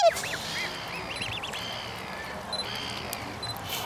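Black swans in a park in Auckland give a series of soft, honking, bugling calls, several short repeated notes near the start and middle, over a steady low background rumble.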